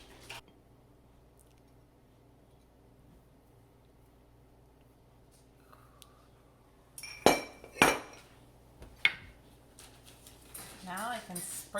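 A metal baking pan being flipped over and handled to release chocolate lava cakes: a quiet stretch, then a few sharp metallic clinks and knocks close by, followed by softer scraping.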